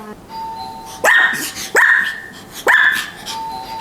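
A doorbell chimes three times at a steady interval, each ring answered at once by a dog's sharp barking in a quiet room.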